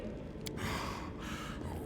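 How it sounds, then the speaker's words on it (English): Horgus, a grumbling nobleman in Pathfinder: Wrath of the Righteous, gives a sharp gasp followed by heavy, strained breathing and snorts, close and fairly loud. "You hear labored breathing interspersed with disgruntled muttering."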